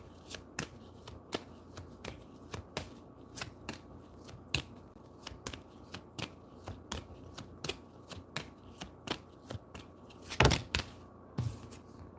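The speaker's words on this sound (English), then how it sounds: "all that shuffling and look what pops out" Tarot cards are shuffled by hand in a quiet room, a close, fairly soft run of crisp riffling snaps repeating at an irregular rhythm, with one louder burst near the end.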